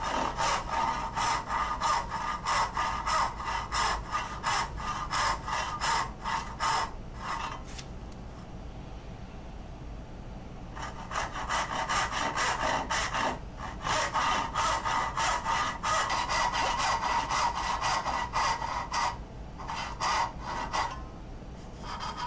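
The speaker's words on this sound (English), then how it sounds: "and then I can start sawing the tails." Steady back-and-forth strokes of a hand saw cutting dovetail tails in walnut end grain, pausing briefly midway before resuming the same rasping rhythm, close and fairly loud.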